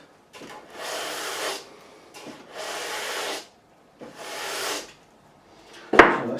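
Coarse-grit sanding along the frets of a Gibson SG Standard during a refret, three long rasping strokes with pauses between, close and fairly quiet, ending in a sharp tap.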